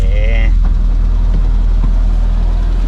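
Vintage four-cylinder engine of a 1969 FIAT 500L or SEAT 600 D idling close by, a steady low rumble throughout, with a brief tonal squeal at the start.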